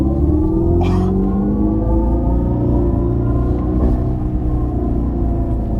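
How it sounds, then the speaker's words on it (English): A 2025 Dodge Charger Daytona electric muscle car plays a synthetic startup sound, a loud, sustained low rumble with rising tonal layers and a couple of brief bright accents, heard on its own. "when it's not in drag mode and you hit power shot, it gives you this full like startup sequence like noise"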